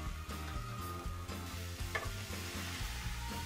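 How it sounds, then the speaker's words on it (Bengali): Water spinach (kalmi greens) frying in a pan with salt, giving a soft, steady sizzle with light clinks and scraping stirs, close and fairly quiet. "ভাজা হয়ে গেলে আমি কলমি শাকগুলো দিয়ে দিব প্যানের"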